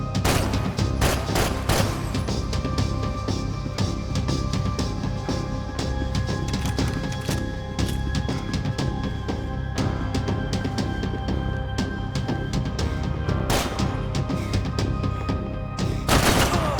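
Sustained gunfight in the video game Max Payne 3: rapid automatic bursts and sharp single shots over a constant low rumble and tonal game ambience, loud and relentless, with especially dense volleys near the start and end.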